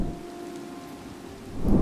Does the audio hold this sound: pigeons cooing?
no